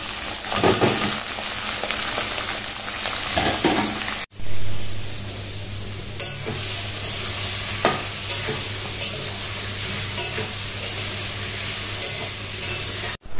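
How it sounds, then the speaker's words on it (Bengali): Carrots and beans fry in a pan with a steady, close sizzle, broken by a brief cut and then resuming with a low hum beneath and occasional soft clicks of stirring. "এবার গাজর বিনসটা ভাজা বসিয়ে দেবো"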